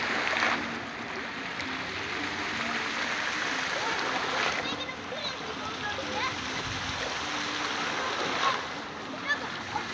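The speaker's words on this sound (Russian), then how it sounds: "Шум воды." Steady rushing water fills the background with a constant broadband wash, moderately loud and unbroken throughout.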